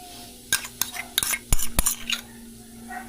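A spoon stirs a mashed banana mixture in a bowl, making a run of irregular clinks and soft scrapes against the sides, close up, with a quiet lull near the end.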